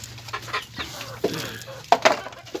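Pet chickens cluck at feeding time, close and moderately loud. There are several short, irregular clucks and calls, with soft rustling and pecking between them.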